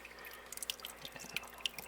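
Water in a filtered Vietnamese mossy frog tank trickles and drips quietly, with small irregular plinks over a soft steady flow.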